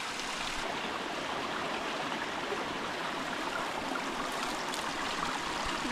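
A stream runs beside a hiking trail on the Appalachian Trail in New Hampshire, its steady close rushing and babbling water filling the whole stretch with no talking.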